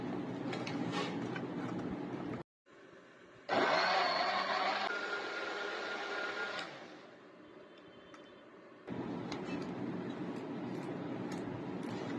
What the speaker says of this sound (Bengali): হাফ কাপ জল দিয়ে দিলাম আর এবার এটাকে ব্লেন্ড করে নেবো